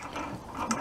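Ratchet loosening a bolt on the alternator pulley of a VW Type 1 engine, a brief close run of rapid clicking pawl ticks with no talk.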